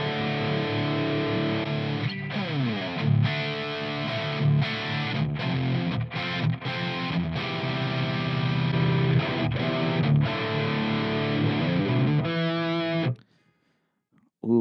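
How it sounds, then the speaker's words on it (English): Heavily distorted metal electric guitar played through a Fender Tone Master Pro amp model comparing Marksman Channel 2 and double rectifier sounds, loud chugging riffs and sustained chords with short stops, ending abruptly in near silence. "I want to hear the difference between the Marksman Channel 2 and the double rectifier"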